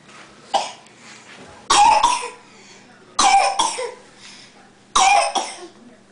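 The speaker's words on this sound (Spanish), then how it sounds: "Te dio la tos." A child coughs three times, each a sharp, close burst with a brief rough tail, evenly spaced by quiet pauses.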